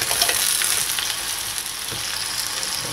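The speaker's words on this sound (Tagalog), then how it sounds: "Then, isama na natin yung prawns." Prawns sizzle in garlic and butter in a hot pan, a dense, steady crackle and hiss with a few faint stirring clicks, close and continuous with no talking.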